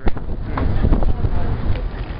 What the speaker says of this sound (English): It's quite windy out here.